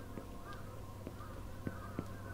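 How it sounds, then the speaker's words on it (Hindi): Crows caw in a Japanese horror video game, several short calls spread across a few seconds over a steady low background hum. "ये देखना कौए का जमीन में घुस रहे हैं क्या"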